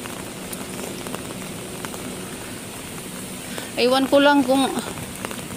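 Heavy rain pours down in a steady, dense hiss throughout, and a voice speaks briefly over it near the end.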